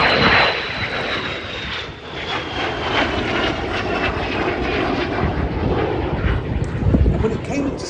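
A de Havilland Vampire jet fighter, with its plywood fuselage and metal wings and tail booms, roars past at the Abingdon Air and Country Show flying display. A steady, loud engine rush carries a high whine that slowly falls in pitch, with faint talk beneath.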